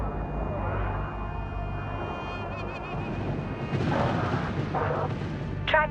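Kinetic weapons fire in the space strategy game Homeworld 3, heavy booming artillery-like blasts rolling under radio chatter, with sharper bursts and electronic tones toward the end.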